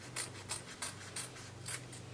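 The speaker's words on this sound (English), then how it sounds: "I'll cut out the front neckline." Scissors cut through fabric along the front neckline of a boubou dress, giving five or six evenly spaced snips, close and clear over a low steady hum.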